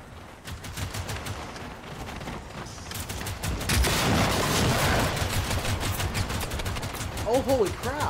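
Gunfire in the video game Generation Zero comes as rapid bursts of close, loud shots layered over one another, with a player talking over the fighting.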